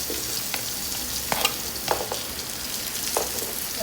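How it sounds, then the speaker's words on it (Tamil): Onions frying in hot oil in a pan, a steady bright sizzle with a few soft stirring scrapes and clicks, close and continuous with no talking. "இப்போ வெங்காயத்தை போட்டுக்கலாம்"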